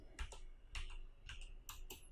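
Typing on a computer keyboard, heard as five soft, distinct key clicks spaced about half a second apart, close and quiet with no talking.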